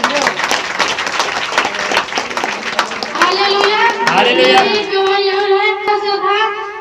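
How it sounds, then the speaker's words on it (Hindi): Loud applause and clapping from a church audience at a testimony gathering, a dense burst of hand claps that gives way to sustained tonal sound toward the end. "जोरदार तालियां"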